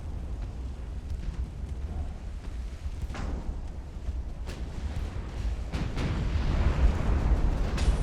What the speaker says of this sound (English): Ammo detonation, there we go.